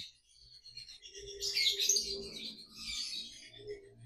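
Lovebirds in a breeding setup give bright, quick chirps and short tweets in bursts, fairly faint, against a quiet background.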